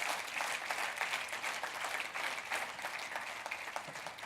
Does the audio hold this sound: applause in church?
yes